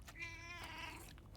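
A pet cat meowing inside the video game Death Stranding 2, one drawn-out, faint, high mew heard alone against a low background rumble.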